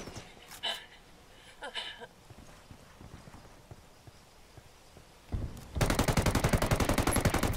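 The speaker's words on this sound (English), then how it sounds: "Taking heavy fire" Gunfire in a competitive video game match: a few scattered distant shots early, then a loud rapid burst of machine-gun fire near the end, rattling in fast regular pulses.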